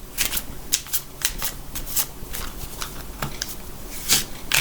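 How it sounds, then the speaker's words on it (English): Tarot cards being shuffled and drawn by hand, a close series of quick papery riffles and flicks repeating irregularly over a few seconds, with no talking. "I'm going to pull some more cards"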